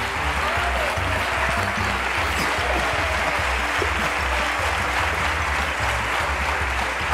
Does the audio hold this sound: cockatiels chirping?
no